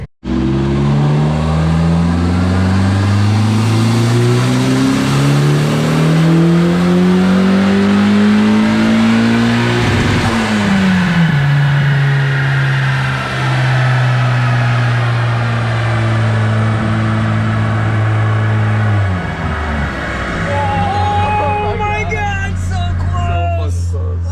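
A turbocharged Mazda Miata engine revs hard on a dyno, loud and close, with a long climbing pull, a gear-like step midway, then a second sustained run before dropping back to idle.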